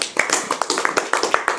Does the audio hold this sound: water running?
no